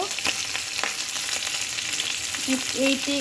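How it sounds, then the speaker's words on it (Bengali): Bhetki fish fillets frying in a pan for a posto bhapa dish, a steady close hiss of hot oil with small sputtering pops throughout and a few brief utensil clinks near the end. "ভেটকি মাছটা ভাজা হয়ে গেছে, আর একটু হালকা ভেজে নেব।"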